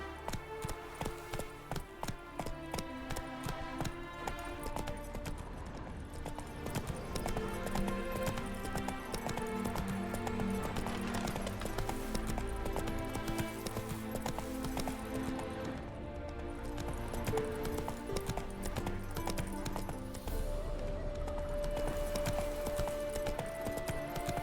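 Horse hooves gallop in The Witcher 3 video game, a continuous rhythmic clip-clop at moderate distance that runs steadily for the whole stretch, fairly quiet, with game sounds underneath.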